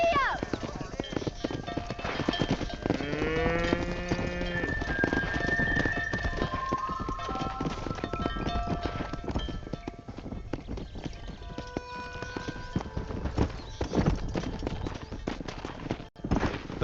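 Horse hooves galloping and clip-clopping in the Western video game Red Dead Redemption, a steady rhythmic drumming under game music, a brief whinny and a voice speaking.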